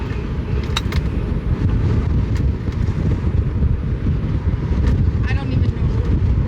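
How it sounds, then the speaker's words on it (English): A strong 35 mph wind sweeps across a golf course, a dense, unbroken roar and rumble that buffets the microphone from start to finish, with a few faint higher sounds over it. "I'm gonna have to be playing into the wind."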